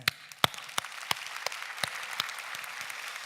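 A church congregation at a Sunday worship service claps in thanks, a fairly sparse, uneven patter of hand claps heard at moderate distance with no voices.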